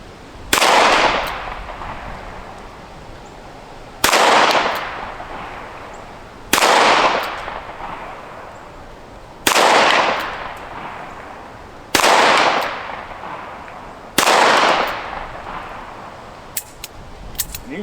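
Six sharp gunshots fired outdoors while testing adjustable sights, each a loud crack with a decaying echo, spaced roughly two to three seconds apart, followed by a few faint clicks.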